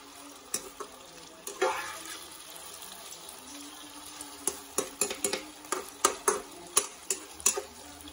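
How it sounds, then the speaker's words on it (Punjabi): Parwal, pointed gourd, frying in a pan beside potatoes dusted with a little gram flour, giving a low steady sizzle with a run of sharp stirring clicks and taps that quicken toward the end, with no talking. "ਪਰਵਲ ਵੀ ਫਰਾਈ ਹੋ ਰਹੇ ਨੇ"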